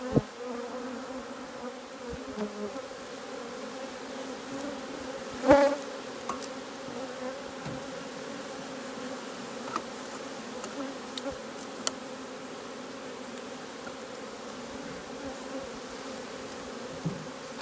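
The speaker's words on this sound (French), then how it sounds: "Mathieu, je crois que tu as une abeille sur la tête. Je crois que t'en as une aussi autour de la caméra." Bees at a beekeeper's apiary making a continuous buzz close to a person's head and the camera, a steady hum with occasional louder passes and small knocks.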